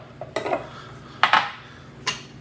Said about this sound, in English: Toss it in here, shake it up.